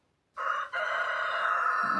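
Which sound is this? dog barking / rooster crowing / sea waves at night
rooster crowing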